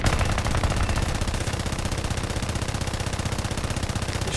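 Aircraft machine guns in the War Thunder air arcade game, flown in a P-26A-33 fighter, fire a continuous rapid rattling burst that stays loud and dense throughout, with no voices.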